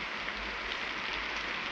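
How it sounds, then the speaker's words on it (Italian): Steady rain pours down at night, a continuous hiss of falling water with no voices over it. "lo vede anche lei come piove?"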